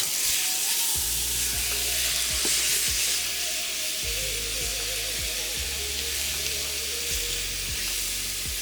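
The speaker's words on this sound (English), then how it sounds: "Now we get to just fry this up. Get it browned." Chicken for chow mein fries and browns in a pan with a steady, close sizzle throughout. Low, irregular thumps and scrapes of stirring sound beneath it, and no voices are heard.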